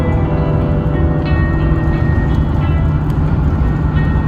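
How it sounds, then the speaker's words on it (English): A train rumbles steadily past close by in Clara, Texas, a loud, continuous low roar of rolling wheels and engine with faint metallic squeals on top. "Got a train coming by."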